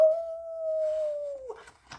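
A human voice imitates a howl, holding one long, steady, wavering tone for well over a second before trailing off into soft rustling.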